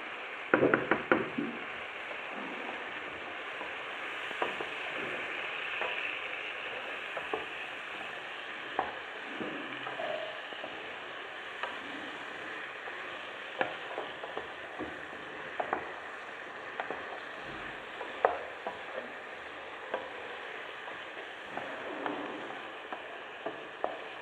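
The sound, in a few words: carrots and green pepper frying in a pan with turmeric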